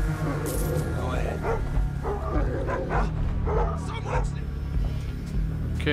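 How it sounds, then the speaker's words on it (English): A guard dog in the stealth video game Thief barks repeatedly, sharp yips and bow-wows arriving in an irregular string of short bursts over a steady low ambient drone, fairly close and clear. "There's a dog."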